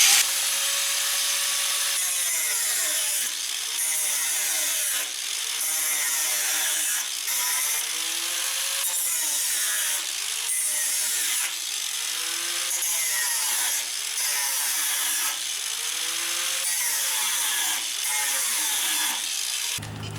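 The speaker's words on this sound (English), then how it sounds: "take a cutoff wheel, because it's a lot faster, and basically cut the spot welds" A cutoff wheel slices through spot welds on the body of a 1988 Thunderbird, a continuous high-pitched grinding whine with rhythmic dips and swells as the disc bites into the metal, close and loud throughout.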